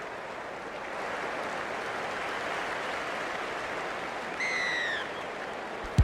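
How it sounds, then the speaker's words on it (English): A stadium crowd in the Rugby League 26 video game on PS5 roars steadily at kickoff, with a brief whistle-like tone rising near the end, all without speech. "The crowd goes up with a kickoff."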